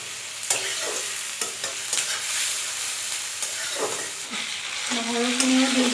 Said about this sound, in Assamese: পিঁয়াজখিনি ৰঙা হোৱালৈকে মই ভাজি থাকিম।